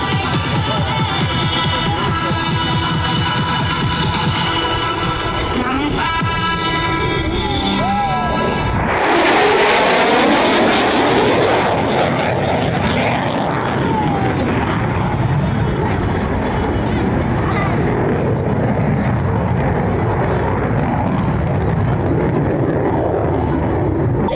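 A military jet roars through a high-speed pass at an air show, a loud, broad rushing roar that swells sharply near the middle and sustains, with crowd noise and mechanical rumble beneath before it.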